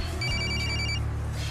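A telephone rings in a quiet room, one electronic ringing burst lasting about a second over a low hum, then silence, with no one speaking.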